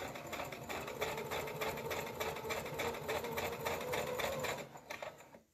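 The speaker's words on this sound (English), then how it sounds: "I've got it on fast, but it should be on medium speed." Sewing machine with a quarter-inch foot stitching fabric at fast speed, a steady, continuous mechanical whir with rapid needle rhythm, close and alone, stopping near the end.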